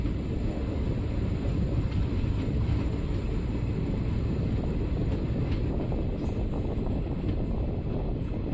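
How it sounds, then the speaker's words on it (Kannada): Kuvempu Express pulling out of Arsikere Junction, a steady, dense rumble of rolling wheels and carriage noise that holds an even loudness throughout, with no voices. "ನಮ್ಮ ಟ್ರೈನು ಅರಸೀಕೆರೆ ಜಂಕ್ಷನಿಂದ ಹೊರಟಿದೆ"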